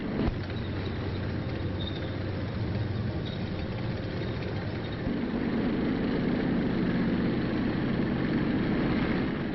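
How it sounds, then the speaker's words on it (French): Armoured army vehicles roll past in a military parade, their engines making a continuous, heavy rumbling drone that grows louder partway through, heard alone in an old, band-limited recording. "dans le tonnerre des moteurs l'armée blindée, triomphatrice des dernières batailles"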